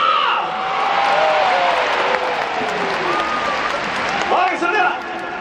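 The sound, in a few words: crowd cheering at a baseball stadium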